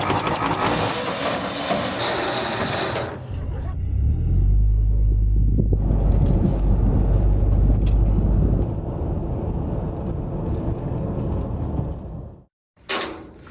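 A 1955 Ford F-100 truck engine, left sitting 28 years in the desert, rumbles loudly after cranking, with a deep low drone that runs several seconds, then fades into rattling mechanical noise before cutting off near the end.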